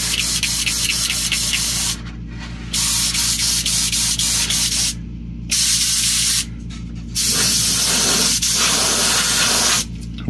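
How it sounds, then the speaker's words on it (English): An airbrush sprays paint onto a part of a 1/60 NeoGrade Sazabi model kit, giving a loud, steady hiss in long bursts broken by brief pauses over a constant low hum. "And then we're gonna spray some of this on there."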